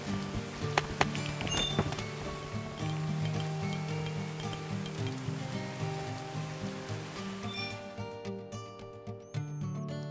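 Steady rain patters over a medieval settlement in Going Medieval on an autumn evening, a constant soft hiss of drops beneath a low musical drone that thins out toward the end.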